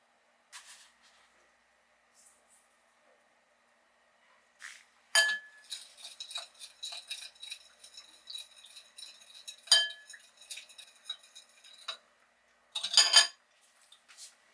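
Shallot, dill, salt and lime juice being mixed in a bowl for a spot prawn ceviche, heard as bright glassy clinks and clatters of a utensil against the bowl in bursts, close and fairly loud, with brief pauses between.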